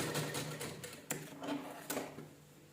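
A sewing machine stitching piping onto a blouse, a faint, soft mechanical whirr with a few light clicks, quiet and close with no voices.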